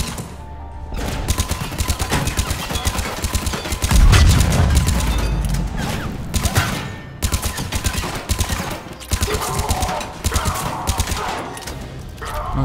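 Mass Effect 3 gunfire rattles in repeated rapid bursts across a firefight, loud and close, with a heavy impact or explosion partway through and brief pauses between volleys.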